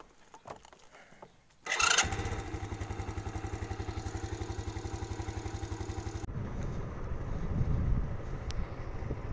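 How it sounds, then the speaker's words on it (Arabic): Motorcycle engine being test-started during a used-bike inspection: faint clicks, then the engine catches and settles into a steady, fast putting idle close by, with a shift in tone partway through. "هنا غادي تيستيه الموتور"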